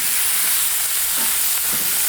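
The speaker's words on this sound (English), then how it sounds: "So get our bacon rendered." Bacon renders in a pan over an oak and hickory lump charcoal fire, a steady loud sizzle and crackle with faint stirring scrapes, no voices.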